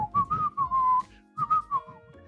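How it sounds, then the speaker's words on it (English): A man whistles a wavering tune in short phrases as he walks away, heard from a played video, clear and fairly close with brief pauses between bursts. "walks off with a whistle and keeps it going"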